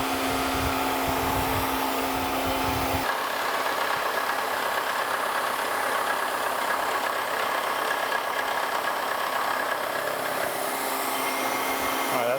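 A power tool blends a chamfer on a steel steam locomotive spring hanger in a machine shop, producing a loud, continuous high whine with grinding texture whose tone shifts early on, then holds steady with no talking.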